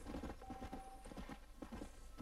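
Horse hooves in the Red Dead Redemption video game clop in a steady walking rhythm, moderately close over a low ambient game background.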